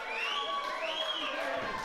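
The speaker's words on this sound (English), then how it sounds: "Someone in the crowd really liked that." Crowd at a pro wrestling show cheering and shouting in a steady, dense roar, with a few whistles or higher cries rising above it.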